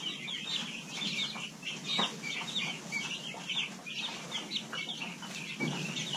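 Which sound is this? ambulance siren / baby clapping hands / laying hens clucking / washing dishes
laying hens clucking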